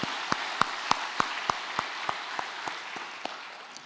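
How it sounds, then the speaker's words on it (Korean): Church congregation clapping together in a Sunday worship service, a steady run of sharp, evenly spaced claps forming loud group applause that gradually fades, with no talking over it. "하나님께 영광의 박수 돌리겠습니다."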